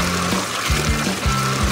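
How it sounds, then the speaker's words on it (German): Water pours steadily over a tree being watered, a soft continuous splashing hiss that runs the whole moment beneath rising tonal background sounds. "Ich glaube, ich sollte ihn einfach mal gießen."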